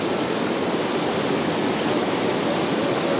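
Churning water of Tahquamenon Falls in Michigan roars in a steady, loud, broad rush that fills the scene without pause or voices.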